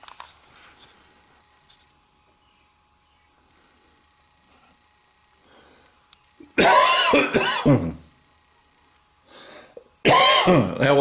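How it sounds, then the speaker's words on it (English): A cat retches and hacks up a hairball in two loud, harsh bursts of several rapid coughs each, separated by a few seconds of quiet room tone, close to the microphone. "That wasn't a bird. That was a hairball."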